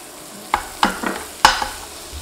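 Butter in a hot pan, being readied for swordfish au poivre, gives a few sharp clinks and scrapes of a utensil spaced apart over a low sizzle, close and fairly loud, with no voices.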